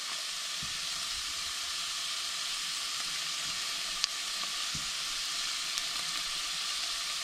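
Onions, garlic and oregano frying in a pan for chili colorado, a steady close sizzle that holds evenly throughout, broken only by a couple of faint clicks.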